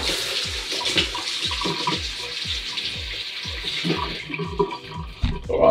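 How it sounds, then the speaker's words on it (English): A tap runs steadily in a kitchen sink while hands wash under it, water splashing close with irregular patters and gurgles throughout. "let me just wash my hands"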